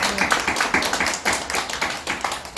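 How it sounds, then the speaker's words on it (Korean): At an Easter Sunday church service, the congregation claps in praise. The hands strike in quick, fairly even bursts, close and lively, with a few hands tapping slightly out of step. "우리 이 시간 부활의 예수님께 감사와 찬송과 영광의 박수 올려드리겠습니다."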